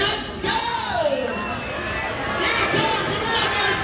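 Crowd of girls cheering and shouting at a bird show's ring race, a continuous lively roar with whoops and chatter rising and falling throughout.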